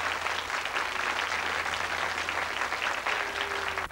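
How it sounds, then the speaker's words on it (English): Continuous clapping from a television studio audience, a dense patter of many hands at moderate volume, with a faint low hum beneath. "Give him a clap for doing that."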